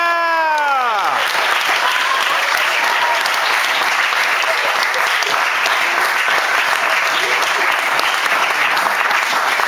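Wedding guests break into loud, steady applause and cheering for the newlyweds right after the ceremony's declaration, a dense crowd roar of clapping sustained throughout, with an excited voice rising briefly near the start.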